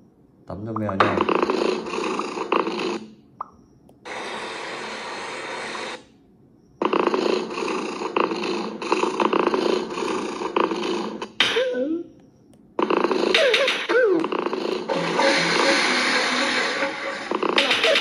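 A cat purring in a video game while it is being bathed, heard as several rough, sustained buzzing bursts separated by brief silent gaps.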